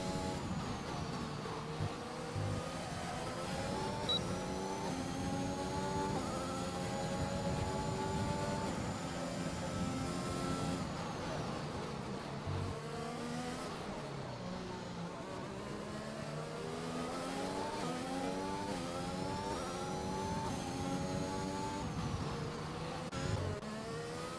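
Formula 1 race cars in a racing video game, with a Williams and a Mercedes battling for position, their engines whining through continuous rising and falling gear-change sweeps, layered with several cars close together and no talk.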